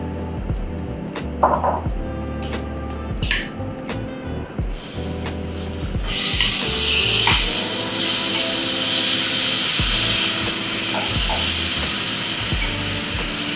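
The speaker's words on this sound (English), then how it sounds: "I just put a little sesame oil in the pan, and I'm just sauteing" Meat sautéing in sesame oil in a pan over medium heat: a few quiet clicks and clatters first, then a loud, dense, continuous sizzle that holds steady to the end.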